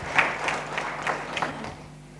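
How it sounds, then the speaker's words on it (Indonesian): A church congregation at an online worship service claps. The applause is sparse and fairly faint, with a few distinct claps standing out and trailing off over a couple of seconds. "Yang mau berikan tepuk tangan meriah buat Tuhan kita."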